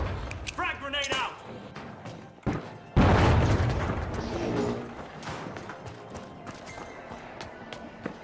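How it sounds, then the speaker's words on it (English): A frag grenade detonates in the video game The Finals, one sudden heavy boom with a rumbling tail, heard among in-game gunfire and callouts. "Frag grenade out."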